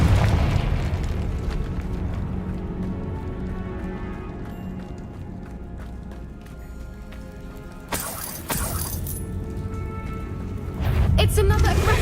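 Confringo spell explosions in Hogwarts Legacy: a sudden loud blast, then a second burst of crackling debris and a final rumbling boom, set against constant low, busy game noise.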